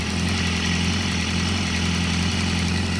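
A 2014 BMW S1000RR motorcycle engine, run without coolant, idles steadily at close range, a constant low rumble with an even hum and no change in pace.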